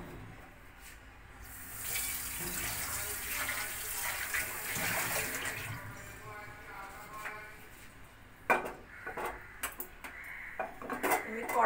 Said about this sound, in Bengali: কড়াইটা একটু হালকা ধুয়ে আবার বসিয়ে দিলাম